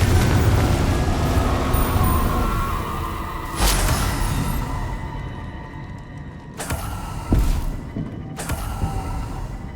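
Confringo spell explosions in Hogwarts Legacy, a loud boom followed by rumbling debris, then two more sharp blasts in quick succession, no speech.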